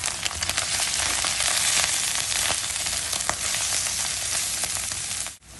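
Onions frying in hot oil with chili powder, salt and turmeric for bhindi masala, giving a steady, dense sizzle that holds throughout with a few stirring clicks and a brief dip just before the end.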